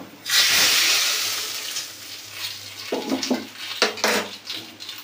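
Hot oil tempering of dried red chili, mustard seed and black cumin poured into a pot of dal, a loud burst of hissing sizzle that fades, followed by a few clinks of a pan and utensil, close by.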